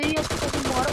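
Rapid gunfire in PUBG Mobile on the Livik map, a teammate shooting at the player, as a dense burst of repeated shots layered under game music and effects over a short stretch.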